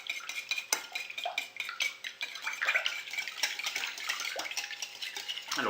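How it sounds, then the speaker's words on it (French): A spoon stirring sugar into crêpe batter in a bowl, quick repeated scraping and clinking strokes close by, light and fairly quiet, with no talking. "On commence un petit peu à mélanger."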